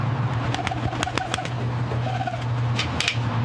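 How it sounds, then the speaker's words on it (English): Soft, repeated coos come from a bird against a steady low hum, with sharp clicking notes scattered through. "This is the oila bird."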